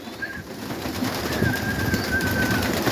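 Pigeons at a dovecote during feeding time, a flock of birds cooing and fluttering close by in a steady, busy murmur with a thin whistle-like tone drifting over it.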